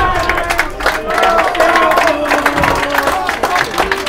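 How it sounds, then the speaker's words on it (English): Parents and fans clap and cheer in scattered bursts at a high school baseball game as a batter steps to the plate, with crowd chatter and nearby voices mixed through the claps. "Lots of claps going."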